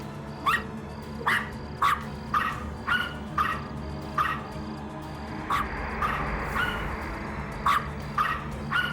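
A small dog barks repeatedly in short, evenly spaced yaps, fairly close, over a steady low background hum.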